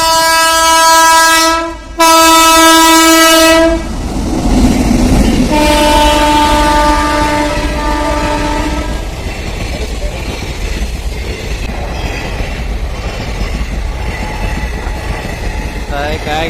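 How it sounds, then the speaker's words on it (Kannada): Trains arriving at a station in Goa, with loud sustained horn blasts, a pause, then another long horn, followed by rolling wheel rumble and clatter as a train passes close by. "ಈಗ 2 ರೈಲ್ವೆ ಬರ್ತಾವೆ ಇಲ್ಲಿ, ಒಂದು ಆ ಕಡೆಯಿಂದ ಒಂದು ಈ ಕಡೆಯಿಂದ"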